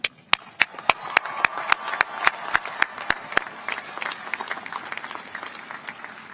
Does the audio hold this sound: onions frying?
no